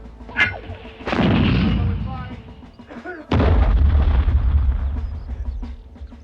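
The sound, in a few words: artillery gunfire in a World War I drama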